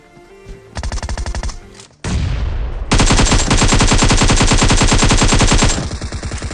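Bursts of rapid automatic gunfire in PUBG Mobile, loud and close, with a short pause before a long sustained volley that tapers into scattered shots.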